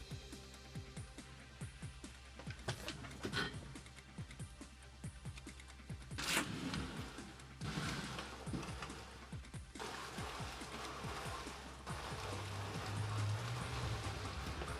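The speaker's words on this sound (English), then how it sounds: "Just sudden rain." Sudden heavy rain pounds down in a steady, dense hiss of drops hitting hard surfaces nearby. It swells in bursts and stays loud throughout, with no voices.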